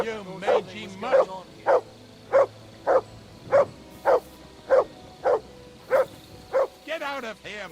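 A dog in the medieval game Kingdom Come: Deliverance II barks in a steady series of about ten sharp, evenly spaced woofs, loud and close, with faint background noise between the barks.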